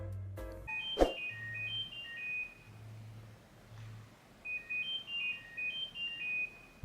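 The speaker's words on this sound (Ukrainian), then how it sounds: "Якщо в додатку задати команду, то вони видаватимуть звук, за яким ви зможете знайти свої навушники." Technics EAH-AZ80 earbuds sounding their find-my-earbuds alert, a short high melodic beep pattern played twice with a pause between, quiet and close, with a click near the start.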